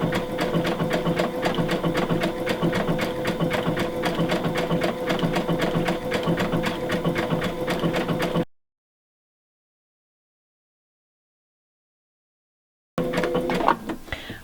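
Baby Lock Aria sewing machine stitching faux lace with bridging plates: a fast, even mechanical chatter, close and steady for about eight seconds, then silence, then a short final burst of stitching.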